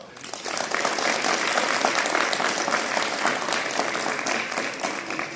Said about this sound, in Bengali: এই হাততালি অধ্যক্ষ স্যার সহ ক্লাস টিচার এবং গ্রুপ টিচার সবার জন্য